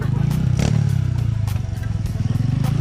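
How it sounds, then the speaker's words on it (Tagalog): Motorcycle passing on a rough dirt road, loud close engine rumble with rattling clatter and bumps as it goes by, a voice faintly mixed in. "Daan na lang ng kalabaw pero motor na ngayon yung dumaan oh"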